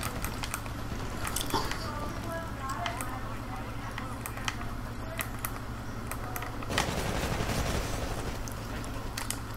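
Rapid gunfire in the video game Titanfall during online multiplayer combat, sustained bursts with a louder surge of shots near the end, mixed under excited voice commentary.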